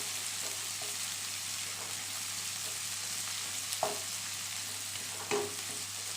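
Chopped onions fry in a hot pan as the first step of a Bengali katla fish kalia, giving a steady, close hiss and sizzle with a couple of brief stirring clinks, no voices.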